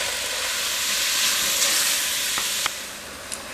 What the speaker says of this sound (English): We're going to add our pork to start off with. I'm going to let that get hot and let it caramelize up pretty well.